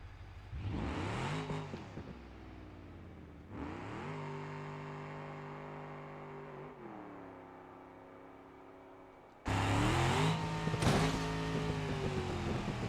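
A car engine runs and revs in passes, rising and easing with gear changes, then surges louder near the end; recorded from inside the car during a drag parachute attempt, with no talk.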